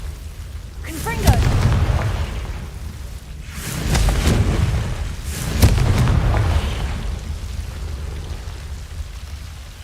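A Confringo spell blast in the Hogwarts Legacy video game: booming, rumbling explosions burst in waves, loud and close, with a crackling tail after each hit and no talk over them.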